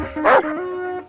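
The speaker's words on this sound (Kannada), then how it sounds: "ನಾಯಿ ಇದನ್ನೇ ನೋಡಿ ಬೊಗಳ್ತಾ ಇದೆ" A dog at a wedding house gives one sharp, close bark that trails into a short whimpering yip.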